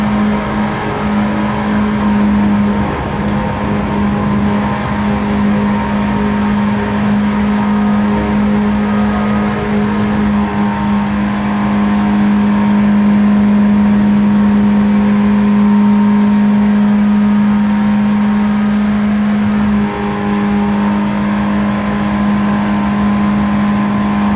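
A race car engine in Gran Turismo 7 at St. Croix runs loud and continuous, holding a steady droning tone with slight shifts in pitch and no voices over it.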